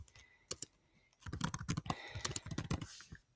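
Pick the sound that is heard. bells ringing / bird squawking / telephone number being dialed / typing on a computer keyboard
typing on a computer keyboard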